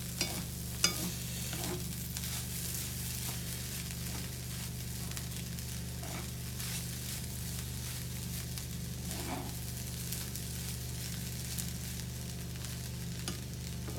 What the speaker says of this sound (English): if you look at some of the Pak Choi, it is starting to cook